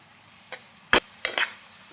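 A spoon scrapes through rusk halwa simmering in a pan on low heat, giving four short, close scraping strokes of uneven spacing over a quiet background.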